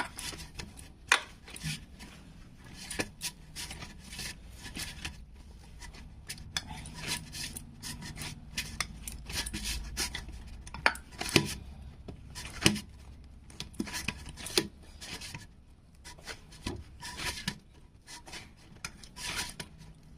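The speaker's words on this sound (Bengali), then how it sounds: "চালের গুঁড়ো দিয়ে এটা আমি ভালো করে মাখিয়ে নিচ্ছি" Hands knead a dough of rice flour for Bengali dud puli, a soft rubbing and patting with occasional dull taps against the bowl, close and fairly quiet, with no talking.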